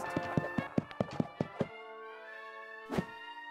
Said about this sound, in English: You wouldn't thump your leg, Puccini